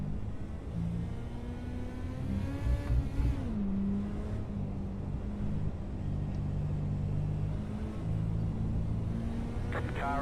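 Race car engine droning steadily on a short dirt track in a racing video game, with a loud continuous low roar and shifting pitch as it accelerates and eases off through the laps.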